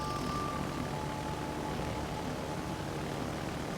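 Propeller torpedo planes drone steadily in the naval video game World of Warships Legends, a continuous aircraft engine hum holding at an even level for the whole stretch with no voices over it.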